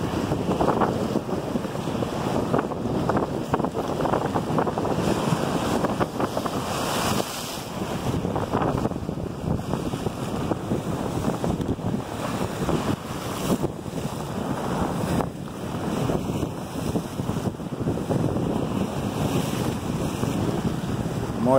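Rough Sea of Azov surf crashes continuously at Berdyansk's central embankment in February while strong wind buffets the microphone, a dense, loud roar with no voices.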